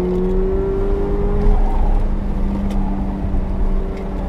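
Engine of a 2017 Mazda ND roadster on BFG Rivals tyres pulling at partial throttle in a one-take drive, a loud, steady, close drone with a rising tonal whine and no pauses.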